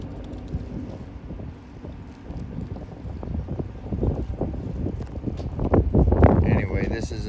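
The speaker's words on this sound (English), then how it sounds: "starting to get windy." Gusty wind buffets the microphone outdoors, rising in strength toward the end, with faint voices mixed in.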